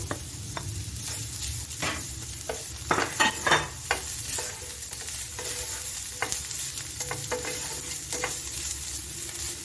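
Chicken pieces frying with onion on a medium flame, a steady pan sizzle broken by repeated scraping stirs and a few louder clatters, close and alone with no talk.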